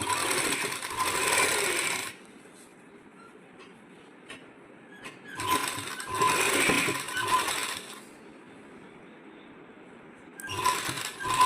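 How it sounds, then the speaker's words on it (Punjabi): A sewing machine stitches along the edge of a lined sleeve with lace, running in three rapid, whirring bursts of about two seconds each, separated by quiet pauses with no speech. "ਪਹਿਲਾਂ ਇਸ ਦੇ ਆ ਕਿਨਾਰੇ ਤੇ ਸਿਲਾਈ ਲਗਾਉਣੀ ਆ ਆਪਾਂ ਨੇ"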